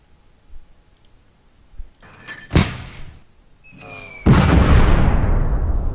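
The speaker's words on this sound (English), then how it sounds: "Look at this mortars." Mortar fire in a war video game: heavy impacts, the second a loud sustained blast with a long rumbling tail, after lighter clunks and with some talk.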